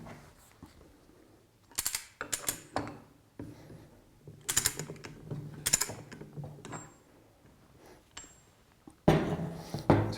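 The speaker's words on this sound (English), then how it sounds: "The first item we're going to start with is undoing the one nut." Ratchet undoing the single nut on a Flotronic one-nut pump, quick bursts of close, crisp clicking pawl ratchets separated by pauses, with a louder rattling handling noise at the end.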